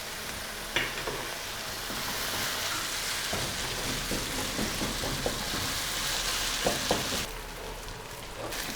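Chicken keema and spices frying in a pan with green chillies, a constant soft sizzle with scattered stirring scrapes and clinks until the sizzle drops away near the end.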